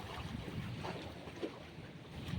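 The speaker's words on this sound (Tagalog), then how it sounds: "Lakas ang hangin." Strong wind buffets the microphone in a steady, rumbling rush, with faint water and boat sounds beneath it, during a fishing trip.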